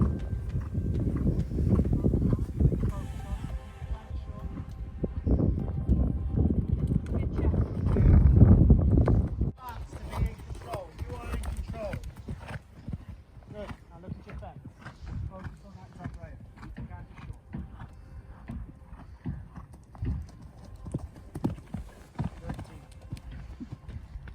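Hooves of a horse named Banksy clip-clop in a rhythmic canter during a show-jumping lesson, moderately close and recurring throughout, while an instructor and rider talk over it.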